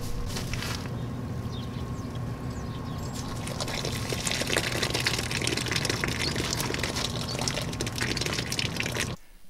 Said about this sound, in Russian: Я несколько дней полоскал шкуру в бочке с водой